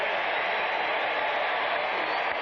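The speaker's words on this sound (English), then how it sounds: "And the crowd applauding Buddy Ryan's defensive team's effort." Football stadium crowd at an NFL game between San Diego and Philadelphia applauding the defense after a late fourth-down stop: a broad, steady roar of cheering and clapping, distant and continuous with no distinct voices.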